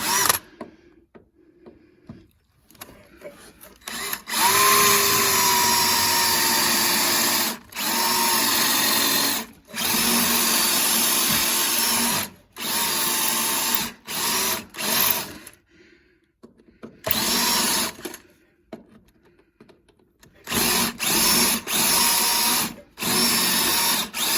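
Repeated bursts of a high-pitched power drill grinding into metal, drilling out spot welds on rusty outriggers of a Volkswagen T4 Transporter, starting and stopping in uneven stretches with short pauses between. Close and loud, no talking.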